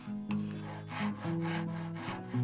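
A hand saw rasps through wood while cutting dovetails for a paper holder, giving several rhythmic back-and-forth strokes close up with no talking.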